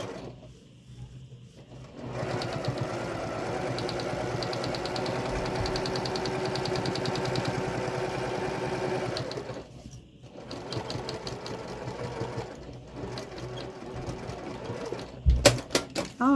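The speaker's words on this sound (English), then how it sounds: "I'm going to go ahead and top stitch this side again" A sewing machine top stitches a precut zipper bag in one long steady run of rapid stitching, close and fairly loud, followed by clicks and handling noises, with no talk.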